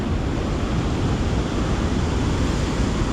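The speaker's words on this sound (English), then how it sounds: "That noise you hear is the pump." A pump runs beside a lake, giving off a steady, loud broadband rush that holds unbroken throughout, like close surf or wind.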